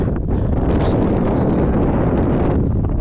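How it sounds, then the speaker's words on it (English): Strong, steady wind roars across the microphone on a mountain top on the Appalachian Trail, a dense buffeting rush with gusts, and no voices. "Definitely windy up here."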